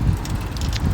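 A strong, cold wind buffets the microphone of someone cycling to school, a dense low roar that rushes continuously through the whole brief moment.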